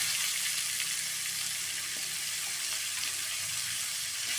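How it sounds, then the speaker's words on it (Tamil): Tomatoes fry in a pan for sundakkai thuvaiyal, a Tamil turkey berry chutney, with a steady, close sizzle of hot oil that holds at an even level throughout. "இப்போ நம்ம தக்காளி ஆட் பண்ணிக்கலாம்."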